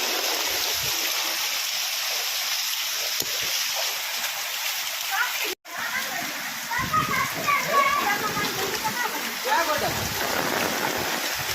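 Heavy rain pours steadily into knee-deep floodwater around a storage building, a dense continuous hiss and splash near the listener, with a short dropout midway and some louder splashing afterward.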